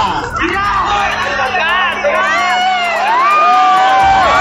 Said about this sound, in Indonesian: tepuk tangan buat dia nih